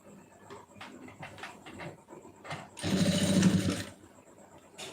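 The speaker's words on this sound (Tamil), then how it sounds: "இதில் வச்சு அப்படியே தச்சுக்கிட்டு வந்துடுங்க" Domestic sewing machine stitching a folded quarter-inch edge on a lining blouse, a short burst of fast, even mechanical whirring that swells up for about a second amid quieter room noise and faint clicks.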